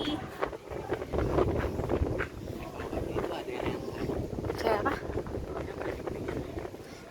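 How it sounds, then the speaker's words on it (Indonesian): Strong wind buffeting an outdoor microphone in gusty rumbling bursts, with people talking close by throughout. "Berangin sekali."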